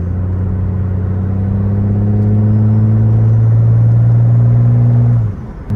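A high-horsepower superturbo Mercedes S-Class diesel with an upgraded transmission drives along, its loud, steady engine drone holding close and constant before a brief dip near the end as it shifts gears.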